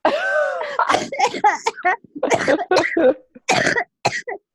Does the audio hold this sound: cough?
yes